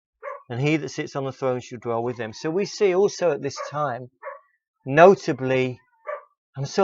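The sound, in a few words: dog barking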